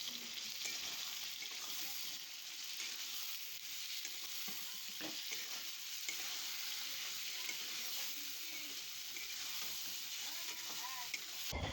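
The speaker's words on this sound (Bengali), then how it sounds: "ভালো করে নাড়াচাড়া করে মশলাটা আমি কষিয়ে নেব" Spice masala for cabbage sizzling and frying in a pan while being stirred, a steady bright hiss with scraping stir strokes throughout, under faint talk.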